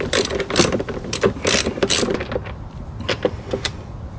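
Screws come out of the engine cover panel of a Yamaha 200 HP outboard, a loud, close series of clicking ratchet-like turns and rattling metal in quick irregular bursts.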